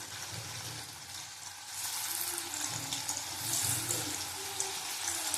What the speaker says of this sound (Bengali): এবার ভেজে নেব। তেলটা গরম হয়ে গেছে